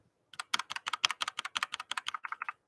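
Rapid, fairly quiet keystrokes on an EPO Maker 65% wireless keyboard, about twenty crisp clicks in a steady, close burst lasting a couple of seconds with no talking.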